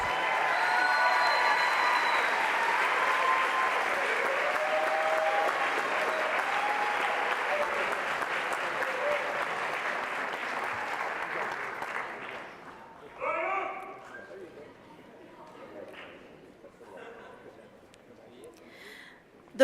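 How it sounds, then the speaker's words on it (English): An audience at a high school IB pinning ceremony applauds the graduating students with sustained, dense clapping for about twelve seconds, then it dies away into scattered claps, crowd noise and faint murmurs. "Let's give these students a round of applause."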